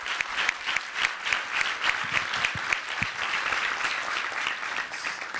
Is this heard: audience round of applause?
yes